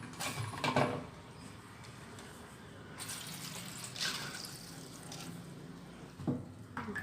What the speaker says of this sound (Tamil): இப்போ இதை தண்ணியை வடிகட்டிக்கலாம்.